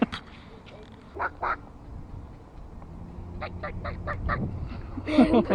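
Ducks near a fishing spot quack in short repeated bursts, a few isolated calls followed by a quick run of quacks and honking, moderately close with low outdoor rumble beneath.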